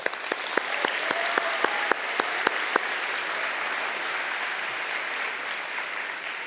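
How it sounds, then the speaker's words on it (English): A banquet crowd at an aviation competition dinner applauds a group, with a dense wash of clapping and a few crisp close claps in the first seconds, holding steady throughout. "Another round of applause for the group"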